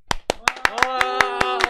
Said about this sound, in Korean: 자, 시작 이전에 박수.